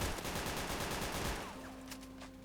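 Gunfire in a prison roleplay video game, a fast volley of rapid repeated shots that stops about halfway through, followed by a faint tone and a few distant pops.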